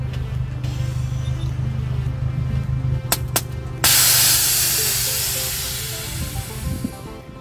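Two short sharp air bursts followed by a loud, sustained hiss of released air from a 2009 Mazda Miata's air suspension lift that slowly fades, over a steady low engine hum.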